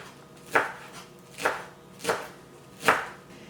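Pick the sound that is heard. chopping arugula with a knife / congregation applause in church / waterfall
chopping arugula with a knife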